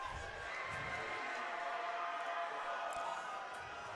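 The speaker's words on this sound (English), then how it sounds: "some of the Limestone crowd trying to make some noise in the form of screams" A Limestone college football crowd at a 2014 game against North Greenville, a broad, steady wash of distant stadium noise with faint scattered shouts and screams blending into continuous roar.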